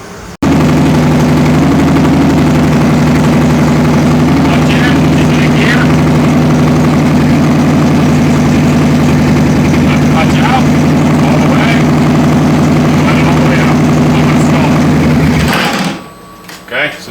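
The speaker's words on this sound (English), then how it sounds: "we went ahead and started the bike with the clutch in" Kawasaki Vulcan 900 cruiser engine cranks into life with the clutch pulled in and settles into a loud, steady, close idle in neutral after a clutch replacement, then cuts off near the end.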